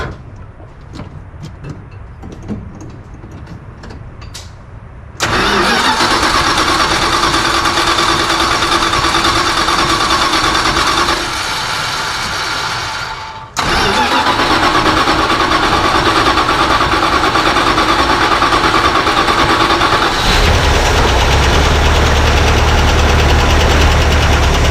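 A 1978 Dodge Ramcharger that has sat unused for weeks cranks and fires. After some quieter shuffling, the engine catches with a loud, close roar, cuts out briefly, restarts and settles into a steady, slightly ticking idle.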